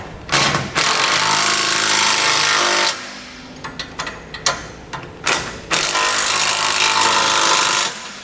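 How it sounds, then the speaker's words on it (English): A power drill whines loudly in long bursts, grinding through hard metal while fitting a base plate to a 2018 Ford Edge, with short stuttering pulses of the motor between the main runs. "Drill out a few more holes."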